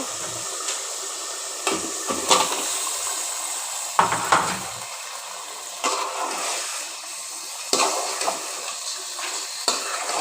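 Meat goes into a pan of spiced masala being browned, giving a loud hissing sizzle broken by repeated clanks and scrapes of a spoon or spatula against the pot, with bursts of spitting oil.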